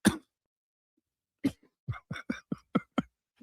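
A couple of sharp coughs, a pause, then a quick run of short hacking coughs, close and fairly loud.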